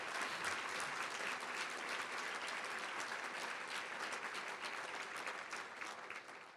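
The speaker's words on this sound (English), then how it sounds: "Please give all of them a round of applause." A gala crowd in a hotel ballroom claps in sustained, even applause that fades slightly toward the end, heard faintly and without any talking.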